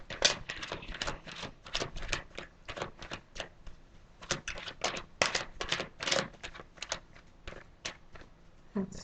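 Tarot cards are shuffled by hand in a long run of quick, crisp flicks and snaps, irregular in rhythm, quiet and close, with no talking.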